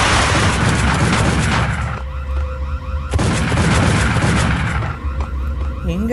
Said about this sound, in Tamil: ஃபயர் பண்ணுறான்.